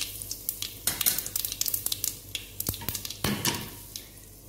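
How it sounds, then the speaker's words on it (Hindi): A tadka of mustard seeds, cumin and asafoetida in hot oil for khichdi: the seeds crackle and pop in quick irregular bursts over a low sizzle, with a few louder snaps up close and no speech. "राई भी थोड़ी सी फूटने लगी है।"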